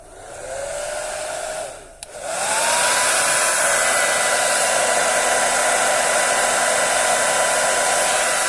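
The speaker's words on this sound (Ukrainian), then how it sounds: "Пішов у жінки, вкрав фен" A hair dryer blows with a loud, steady whoosh and whine; it dips briefly as it is switched off, then roars back at full power.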